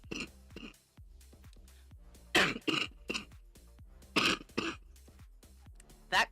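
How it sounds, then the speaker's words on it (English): Repeated raspy coughs and throat clearing from a person suffering reflux-related irritation, coming in several short bursts with a few stronger, louder hacks spaced across the stretch, close and dry. "That cough is from one day of not having that med."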